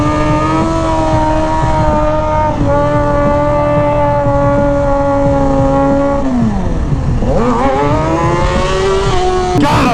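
A 2003 Kawasaki ZX6R motorcycle accelerates hard through the gears, its loud engine holding steady pitch, dropping at a shift and then climbing again, with wind noise throughout.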